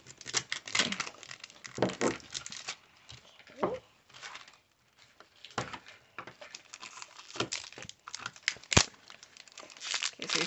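Crinkling plastic and the rasp of a zipper being pulled on a toy package, in irregular bursts with short pauses and a sharp click near the end.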